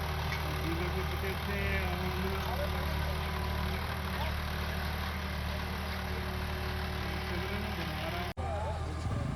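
A John Deere 5210 4x4 tractor engine runs steadily and loudly at close range, a continuous low rumble that holds throughout with a brief dropout near the end.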